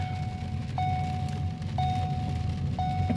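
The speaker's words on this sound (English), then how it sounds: "The beeping noise is just because I'm not wearing my seatbelt." Seatbelt warning chime in a 2015 Ford Escape SE, three clear evenly spaced beeps sounding over steady engine and road rumble inside the cabin.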